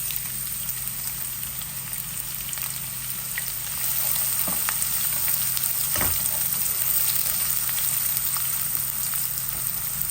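Onion and garlic fry in oil, turning reddish, for a dried shrimp and radish dish. A dense, even sizzle runs loud and close throughout, with a few faint pops and no talking.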